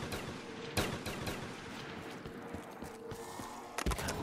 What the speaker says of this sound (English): Look, shoots 3 bullets.